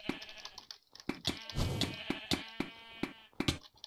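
Sheep bleat repeatedly in the video game Sheep Quest, a string of loud, close, nasal cries in uneven bursts with short gaps between them.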